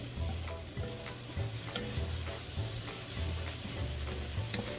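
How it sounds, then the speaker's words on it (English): Ground beef simmers and sizzles in a pan as its liquid cooks off, a steady bubbling hiss with soft periodic stirring scrapes, fairly quiet and close, with no talking. "I'm just cooking some of that liquid off."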